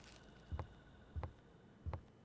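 Footsteps of the player character in the video game Ethel, three soft evenly spaced thuds a little over half a second apart, close and fairly quiet over a low background hum.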